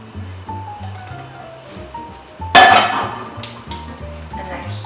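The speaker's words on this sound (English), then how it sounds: "here's my peppers and onions, and they are nice and soft. I'm gonna pour those right over the top" Soft cooked peppers and onions slide out of a pan onto meat in a crock pot, giving a sudden wet splatter and clatter midway, with scraping, clinking cookware and low-level kitchen sounds around it.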